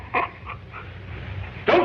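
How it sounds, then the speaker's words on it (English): A dog gives a few short yips and whimpers, then a sharper bark near the end, close by and with no talk over it. "Poor dog, get away from that."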